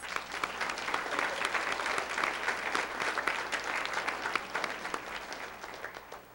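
An audience at an elementary school dedication claps steadily in a sustained round of applause, dense and even throughout, with no one speaking.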